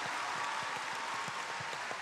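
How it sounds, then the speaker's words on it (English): Secondary school students clapping at a Model United Nations event in Ogun State, a steady dense wash of applause filling the whole moment at close range. "I've never said what you should do, but you're clapping already."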